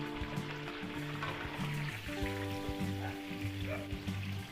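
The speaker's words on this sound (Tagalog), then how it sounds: "Gisa po natin yung tomato sauce." Tomato sauce sautéing in a pan, with a soft, steady sizzle and bubbling running quietly beneath a low hum, with no speech heard.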